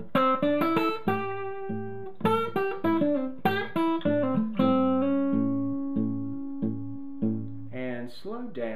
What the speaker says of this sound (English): So all together the lick sounds like this.